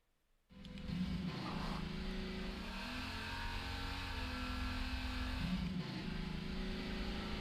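A car engine revving steadily with turbo engaged in the video game Half-Life 2, a loud continuous drone with small shifts in pitch and no talk over it.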